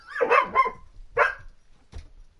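A dog barks in a few sharp, loud bursts close by: a quick double bark, then a single one, then a softer short yip, with no talking over them.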